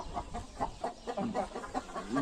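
Soft, repeated clucks come from a hen and a rooster sharing a coop, close by and moderately quiet, in an irregular series without speech.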